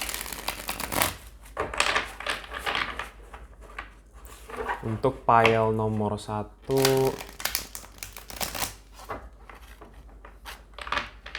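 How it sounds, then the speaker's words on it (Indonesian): Tarot cards are shuffled and riffled by hand in several crisp bursts, with someone talking between and over them. "Oke, kita shuffle kartunya seperti biasa dulu."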